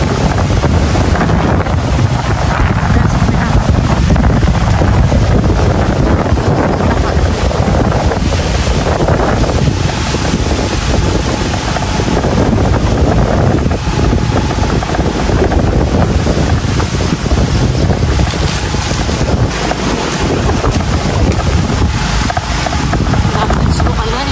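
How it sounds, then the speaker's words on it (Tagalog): Strong wind buffets the microphone in a constant loud roar throughout by a fish pond at night, with a faint voice occasionally audible underneath. "Malakas din pala dito ang hangin"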